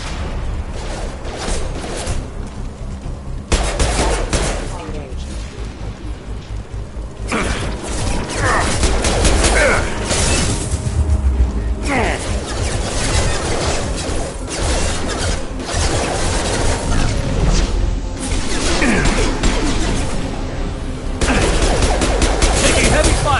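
Dense, continuous heavy gunfire and automatic weapon bursts with crashes and explosive impacts in Crackdown 2 as security mechs close in, loud and sustained throughout with a voice speaking over the battle.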